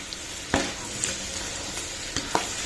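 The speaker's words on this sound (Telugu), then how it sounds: "ఇవి కూడా మంచిగా ఫ్రై అవనిద్దాం." Broad bean seeds frying in oil for a pickle, a steady soft sizzle broken by a few sharp stirring scrapes and clinks, close and fairly quiet with no voices.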